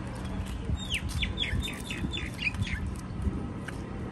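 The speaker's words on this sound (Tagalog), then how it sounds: "Daming ibon." Birds chirp in a quick descending series of short tweets, fairly close, over a steady low background rumble.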